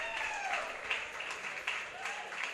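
Crowd applause following a freestyle football battle at the Women's European Freestyle Football Championship, a steady wash of clapping with a few louder bursts, heard at moderate distance with voices mixed in.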